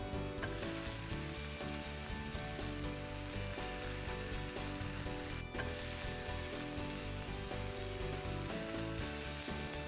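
Uttapam batter sizzles steadily in a hot pan, a continuous dense hiss with faint mechanical ticking underneath, close and even in level throughout, with no voices.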